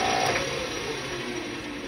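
Metal lathe running while cutting a chamfer on a ring, giving a steady mechanical whir with a faint high tone, constant and close for a couple of seconds without speech.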